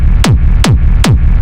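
Three punchy synthesized hard techno kick drums hit at an even pace, each a hard pitched-down thump with a bright click, over a distorted low rumble.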